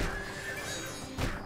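A horse neighs in the Oblivion video game during a wilderness chase with a wolf, a steady whinnying cry over a continuous ambient bed, followed by a brief thumping burst near the end.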